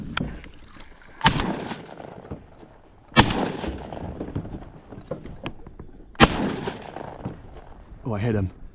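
Shotgun blasts on a river while duck hunting from a canoe, three sharp loud shots spaced a few seconds apart with short echoing tails, followed by a brief voice at the end.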